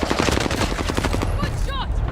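Rapid automatic gunfire rattles in a battle royale video game, a dense burst of close shots followed by a couple of ringing ricochet-like tones.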